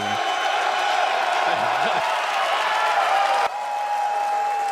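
A happy crowd at the E3 2018 show cheers and applauds in a dense, continuous wash of clapping, steady and loud throughout.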